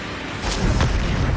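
Flipendo spell blast in the Hogwarts Legacy video game, a loud booming whoosh that swells and holds as a dense roar for about a second.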